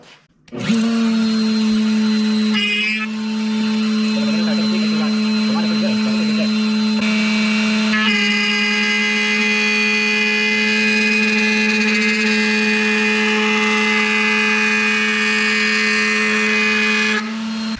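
A router spins up and cuts dados into curved wooden door panels in a furniture shop, a loud, sustained high whine with shifting tone as the bit bites into the wood.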